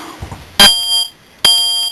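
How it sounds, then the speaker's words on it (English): Two loud, piercing electronic smoke alarm beeps inside a Compass Venture 302 caravan, each held about half a second, close by with a short gap between them. "we've got carbon monoxide alarm, little smoke alarm"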